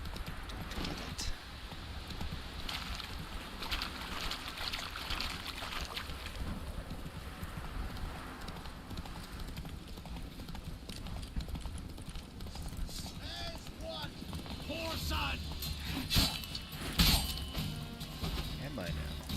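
In The Witcher 3: Wild Hunt, a horse's hooves clip-clop steadily at a gallop across the whole stretch. The sound is faint and sits among game ambience, with some voice-like sound mixed in.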